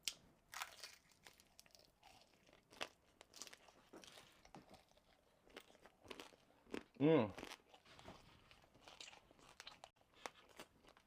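Crispy braised fish from a Senegalese thieboudienne in tomato sauce crunches between the teeth, with close crackling bites and one louder crunch in the middle, amid soft mouth noises.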